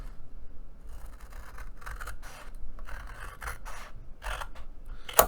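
Scissors snip repeatedly through paper for a digital-kit bento box purse, cutting out notches and mitered edges in a run of close, crisp cuts and rasps, with no talking.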